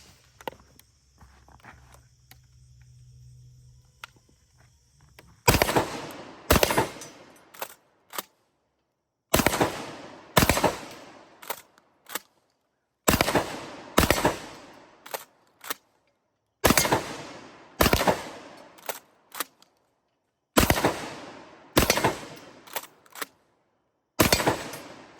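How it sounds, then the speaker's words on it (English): A Standard Manufacturing DP-12 Gen II double-barrel pump shotgun fires 1-ounce slugs outdoors in a series of loud, sharp blasts. Most come in quick pairs with pauses between them, and a quiet stretch comes before the first shot. "Let's go ahead and take a few shots with it."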